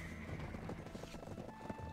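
Horses gallop in a large race in the Black Desert video game, their hoofbeats forming a dense, continuous clatter that fills the short stretch alongside a steady in-game background wash.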